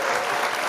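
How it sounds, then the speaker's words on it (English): Audience applause for a podcast guest: a short, dense burst of clapping from a small crowd, close and steady throughout. "we're gonna clap it on up for you"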